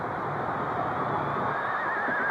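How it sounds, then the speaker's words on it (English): A horse whinnies amid a steady roar of crowd noise at a 1981 NFL game between the Falcons and Oilers, the call blending into the continuous stadium din. "You hear that horse noise in there"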